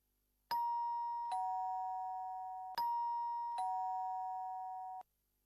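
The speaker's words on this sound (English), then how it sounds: "I wonder who is ringing the bell." An electronic doorbell chimes twice, each a two-tone ding-dong with ringing notes that decay slowly, in an otherwise quiet room.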